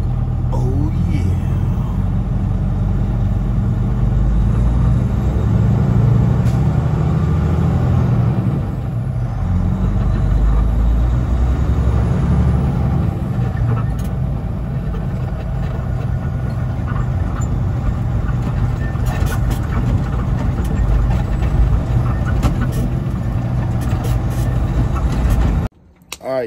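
A refrigerated trailer reefer unit runs loudly nearby, a constant low droning rumble that continues steadily with no pauses, cutting off abruptly at the very end.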